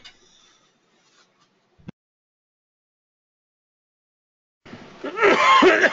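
A single cough from a man in a quiet room, sharp and brief, followed after a pause by a voice speaking close to the microphone.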